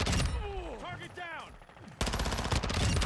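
Hip-fired gunfire from Call of Duty: Modern Warfare II, heard as rapid bursts mixed with game effects and sweeping tones, with a loud burst of shots near the end.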